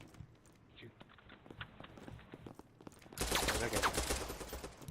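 Video game guns fire in quieter scattered shots at first, then a loud, sustained volley of rapid gunfire takes over near the end, with a brief spoken word early on.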